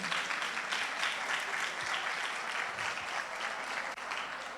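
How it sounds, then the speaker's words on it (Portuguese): A church congregation applauds as a pastor is welcomed at a Friday evening event. The clapping is continuous, dense and even, heard from a distance at a fairly low level with no speech over it. "Thiago Guedes, pode aplaudir."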